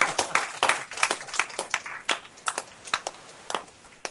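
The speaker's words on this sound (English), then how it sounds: "Are we able to clap now" A few people clap together at a podcast recording, a quick scattered run of distinct claps at moderate level with no talking over them.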